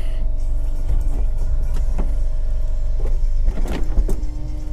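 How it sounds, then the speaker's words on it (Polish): The electric folding hard-top roof of a Peugeot 307 CC convertible lowers with a close motor whine and rumble, broken by several mechanical clunks and latch clicks as the panels move. "Spuszczę wam dach, pokażę wam jak wygląda bez dachu."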